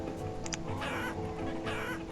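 Chickens cluck in the farming video game Banished, short repeated clucks over a steady ambient game background, moderately close.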